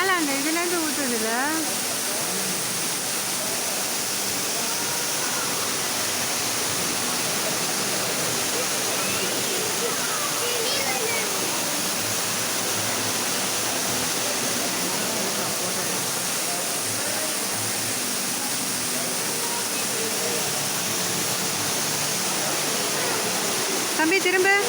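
Water crashes steadily down from above inside a mountain cave at a hidden falls in America, a loud, even rushing roar throughout, with people talking briefly at the start and near the end.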